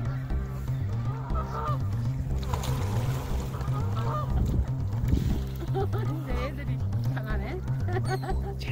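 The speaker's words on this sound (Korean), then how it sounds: "원앙이, 저거 원앙이다 그러지 않니? 오리지, 오리지." Ducks, including mandarin ducks, calling at a park pond at Bowne Park in New York, honking calls repeating under steady nearby talk and outdoor ambience.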